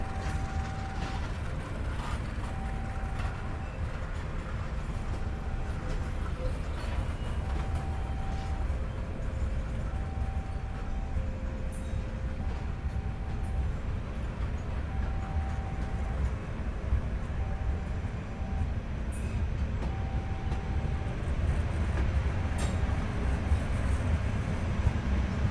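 Ijen Express executive train running on rails at speed, a steady loud rumble and clatter with a repeating tonal beep or squeal pattern over continuous wheel noise.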